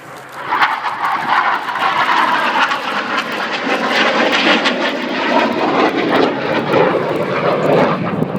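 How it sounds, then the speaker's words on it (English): A Chinook Mark II twin-rotor helicopter makes a knife-edge pass at the Royal International Air Tattoo at Fairford in 2012, its loud rumbling roar with rapid rotor chop holding steady overhead throughout. "Today the Chinook Mark II is going to perform a knife edge pass."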